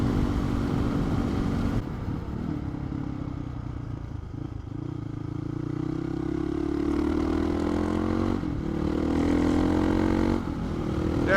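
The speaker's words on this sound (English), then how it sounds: "this bike's a lot of fun to ride, even on the back streets" A motorcycle rides along quiet back streets near a dirt-track route, its engine droning loudly and steadily close by, with the pitch rising and falling as it shifts and accelerates, and no talking.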